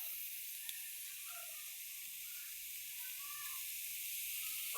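Onion frying in hot oil in a pan for biryani gives a steady, fairly faint sizzling hiss that carries evenly throughout with no talk.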